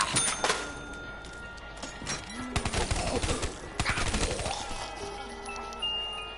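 Rapid automatic gunfire in Call of Duty Black Ops 3 Zombies, loud sustained bursts of shots crackling across the clip alongside game effects, with a brief voice in the background.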